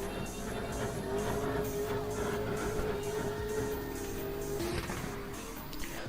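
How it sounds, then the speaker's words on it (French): A car drifting around the Spa-Francorchamps circuit, with a steady loud engine drone and a continuous rasp of tire noise running the whole stretch, no voices. "le drift à SPA Francorchamps"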